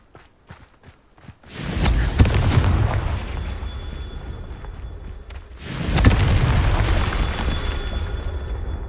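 Confringo fire spells burst in Hogwarts Legacy, two heavy booming blasts a few seconds apart, each followed by a long rumbling roar of crackling debris and flame.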